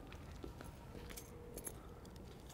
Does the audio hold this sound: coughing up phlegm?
no